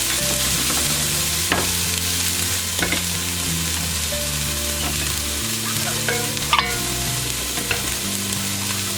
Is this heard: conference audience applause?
no